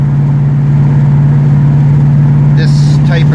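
A 1969 Dodge Charger with highway gearing cruises down the road, its loud, steady engine drone heard from inside the car with little change in pitch, with a brief higher mechanical whine near the end.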